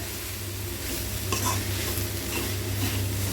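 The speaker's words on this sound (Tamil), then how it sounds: "இப்போ வந்து நம்ம ஸ்டவ் வந்து ஸ்லோ பண்ணிவிட்டு மெதுவாக கலந்து விட்டுக்கலாங்க." Vegetable fried rice made with ordinary ponni rice is stirred slowly in a pan over low heat, giving steady close scraping and a soft continuous sizzle with a few louder scrapes, and no talk.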